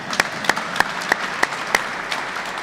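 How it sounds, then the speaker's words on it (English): Applause from the audience at a groundbreaking ceremony for The Paddocks in Frankfort, heard as a handful of sharp, evenly spaced claps that taper off over a few seconds, nearby and fairly loud. "You can clap for them."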